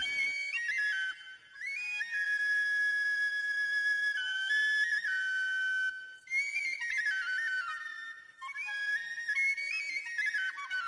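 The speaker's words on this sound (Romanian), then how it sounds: "Nu știam că Nicolae Beganu știe să cânte și încă la un fluier făcut de el însuși." A homemade shepherd's flute, a Romanian fluier, plays a bright, wavering melody of sustained notes and quick runs, heard close and alone with brief breaths between phrases.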